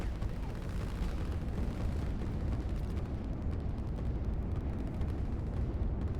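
Rocket explosion in the real-time strategy game Line War: a dense, continuous rumbling roar of blasts and booms filling the whole stretch, loud and unbroken.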